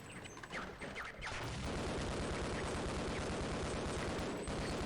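Unsilenced automatic gunfire from ninja enemies in Half-Life: Opposing Force rattles in a dense, continuous burst after a few scattered opening sounds, loud and close.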